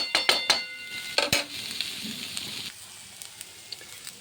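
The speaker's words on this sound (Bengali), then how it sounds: "একটু ভাজু, মাছটা দিচ্ছি যখন আর একটু ভাজা হইব" Small fish fry in a pan with beans and potatoes, giving a soft continuous sizzle, while a utensil scrapes and clinks against the pan several times early on before the frying carries on quietly alone.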